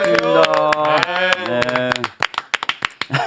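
An audience claps to welcome a lawmaker onto a talk show, a short scattered patter of hands that follows a fading musical sting, with a brief voice heard.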